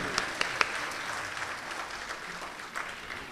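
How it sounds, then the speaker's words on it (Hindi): Applause from the audience at the AICA Kuwait International Mushaira 2018 welcomes guest Anubhav Sinha, a full, sustained patter of many hands with a few sharper claps standing out early on. "इस्तकबाल करें भरपूर तालियों के साथ जनाब अनुभव सिन्हा साहब"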